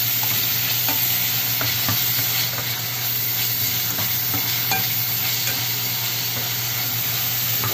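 Meat sautéing with vegetables in a pan for pinakbet, a loud close, steady sizzle and hiss running throughout with faint scraping of stirring under it, no talk.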